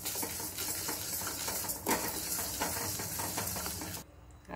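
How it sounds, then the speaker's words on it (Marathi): Dal dry-roasts in a pan without oil, a dense scratchy rustle of lentils being stirred close by, with sharp scrapes and a sudden drop to near quiet near the end. "हे छान असं भाजून घ्यायचं आहे, म्हणजे डाळी ह्या खमंग भाजल्या जातात।"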